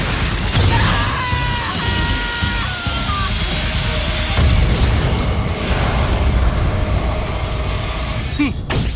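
Shadow's Chaos Blast erupts as a sustained, roaring explosion with jet-like whooshing and rising tonal streaks, loud and dense for several seconds before it breaks off near the end.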